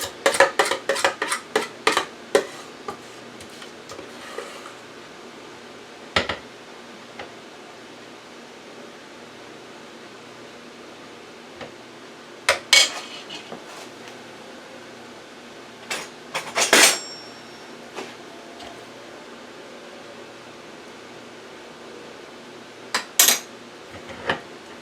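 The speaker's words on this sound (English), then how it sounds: "I'm just going to use my spatula to get out as much as I can." A spatula scrapes sweet potato pie cupcake batter from a mixing bowl in a run of sharp scrapes and clinks. A burst of rapid strokes opens the stretch, and then the scrapes come sparsely over a low hiss, with no voices.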